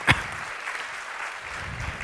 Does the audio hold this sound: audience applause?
yes